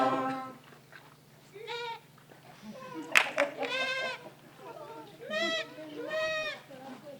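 A sheep bleats several times on a theatre stage during a live play's auction scene, the calls separated by pauses, with stage noise and a sharp knock between them.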